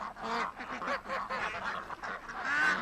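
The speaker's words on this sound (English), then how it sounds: "Geese are water birds." Geese honk nearly nonstop in a loose, overlapping chorus of nasal calls from a small flock of water birds close by, at moderate loudness, with no talking.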